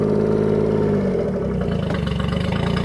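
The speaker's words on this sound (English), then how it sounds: "I'm going to run the engine for about 5, maybe 10 minutes." A Tohatsu 40/50 hp outboard motor runs steadily to warm up, its engine note shifting after about a second into a rhythmic, pulsing idle heard up close with no talking.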